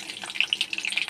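Two dried red chillies and five or six garlic cloves frying in hot oil, bright crackling pops and spits in quick irregular bursts, close up with no talk.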